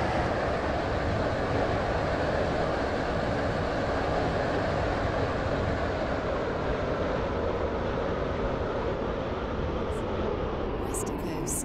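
Steady rumbling video game train noise rolls on throughout, a continuous broadband roar of wheels and carriage with no breaks.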